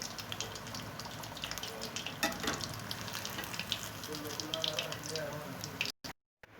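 Batter-coated fish frying in hot oil, a steady bubbling sizzle with occasional crackles, close and continuous before cutting off abruptly near the end.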